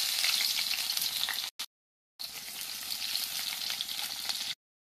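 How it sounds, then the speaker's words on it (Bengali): Onions frying in hot oil in a pan, a steady loud sizzle that cuts out briefly partway through and then resumes, with no one speaking. "আলু ভাজা হবে, পেঁয়াজও ভাজা হয়ে যাবে"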